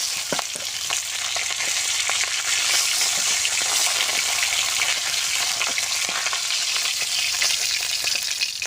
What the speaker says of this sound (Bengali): মাছের মুড়োগুলো সুন্দর করে ভাজা হয়ে গেছে, আমি তুলে নেব।